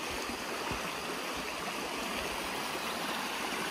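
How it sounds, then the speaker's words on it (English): A waterfall and stream along the Appalachian Trail, a steady close rushing roar of falling and flowing water with no break, alone without voices. "oh, look how pretty, what a pretty waterfall"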